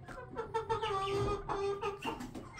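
Three-month-old Legbar chickens and a young Legbar rooster cluck and call in short, quiet bursts close by in a backyard flock.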